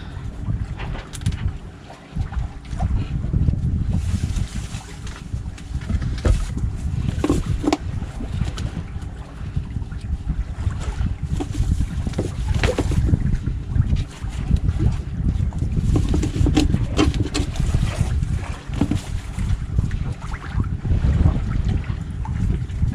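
Strong wind rushes and buffets the microphone aboard a sailboat off the Thormanby Islands, a continuous gusty roar mixed with water sloshing against the hull, with no talk.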